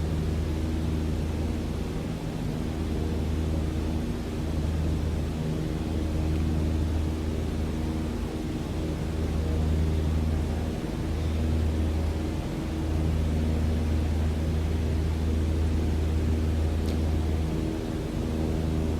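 Steady, loud drone of a light aircraft engine at climb power after takeoff, a constant low hum with a broadband airflow hiss that holds unbroken throughout, no talk.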